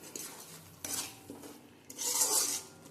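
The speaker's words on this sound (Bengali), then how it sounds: "মশলাটাকে ভালো করে বাটাটার সঙ্গে মাখিয়ে নেব" Spices, salt and sugar are stirred into a paste of pointed gourd peel in a pan, heard as a few soft, quiet scraping strokes with a faint sizzle underneath.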